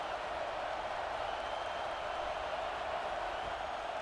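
A stadium crowd in the EA Sports College Football 26 video game, at an Ohio State Buckeyes home game on third down, gives a steady, dense roar that stays even and fairly loud throughout with no talk over it.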